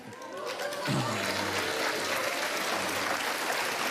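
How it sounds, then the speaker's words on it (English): A television studio audience on the Dr. Phil show breaks into applause, a dense, steady wash of clapping that swells quickly and holds loud and continuous, with a voice briefly audible underneath at the start. "You see that hand clap, that crowd, she lives for that."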